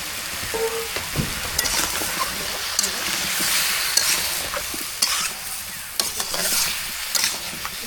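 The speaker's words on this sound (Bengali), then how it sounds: "মরিচ এগুলা দিয়ে দিই, উপরে দেওয়া তেলের সাথে ভাজা দিব" Dried red chillies frying in hot oil in a rural Bangladeshi kitchen, a steady broadband sizzle with intermittent clicks of stirring and scraping throughout.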